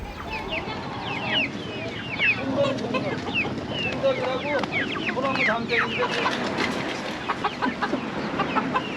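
A crowd of hens clucks and cackles continuously at close range at a rural five-day market in Goesan, South Korea, with people talking among the noisy birds.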